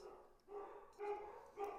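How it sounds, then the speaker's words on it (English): Several dogs bark and yip indoors in short bursts, moderately loud, with a voice talking alongside them. "Listen to the symphony of my dogs."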